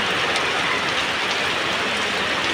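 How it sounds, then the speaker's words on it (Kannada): Heavy rain pouring down outdoors, a dense, unbroken hiss of countless drops striking surfaces, loud and close, with no voices. "ಆಗೈತೆ ಮಳೆ ಜೋರಾಗ ಬರಕತ್ತು"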